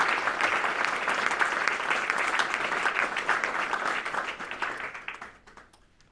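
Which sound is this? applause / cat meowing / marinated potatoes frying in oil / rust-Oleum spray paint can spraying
applause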